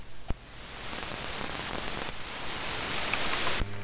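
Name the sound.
rain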